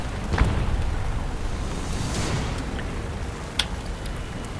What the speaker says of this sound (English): Some guys still dropping bombs.